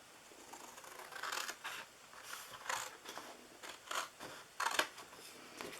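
Scissors snipping through paper while a DIY Christmas gift box is cut out, giving a series of fairly close, moderately soft cuts in irregular bursts with brief pauses between them, no talking.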